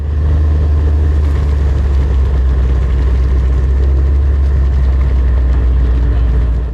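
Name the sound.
drag race car engine roaring at quarter-mile strip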